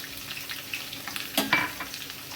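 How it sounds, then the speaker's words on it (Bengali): Potatoes frying in a pan give a soft, close sizzle with a louder burst of crackling midway as they are stirred, no talking. "যতক্ষণে আলুটা ভাজা হচ্ছে"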